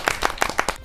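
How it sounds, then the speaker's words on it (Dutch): Short burst of audience applause, a handful of distinct claps in quick uneven rhythm, close and fairly loud, fading out after under a second. "Een groot applaus, dat verdien je."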